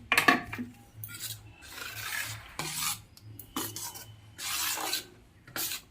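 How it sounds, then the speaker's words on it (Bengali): Rice flour batter for chitoi pitha stirred in a bowl, a series of scraping, rasping strokes in irregular bursts with short gaps, close and moderately loud. "ব্যাটারটাকে ভালো করে গুলিয়ে নিলাম আর একটু জল দিয়ে পাতলা করে নেবো"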